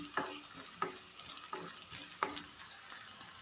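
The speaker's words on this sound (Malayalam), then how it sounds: "നമുക്കൊന്ന് വഴറ്റി കൊടുക്കാം." Shallots sizzling and frying in a pan for tempering a Kerala raw banana and dal curry, with a steady crackle under rhythmic scraping stirs about every half second, close and fairly quiet.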